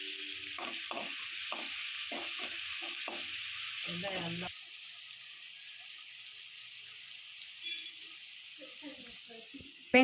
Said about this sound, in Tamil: எண்ணெய் காஞ்சதுக்கப்புறம் நறுக்கி வச்சுருக்க பெரிய வெங்காயத்தை வந்து சேர்த்துக்கிறேன்